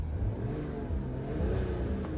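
A BMW X6 40d engine idles in park with a low rumble and rises into a few moderate revs, steady and close, with no voices.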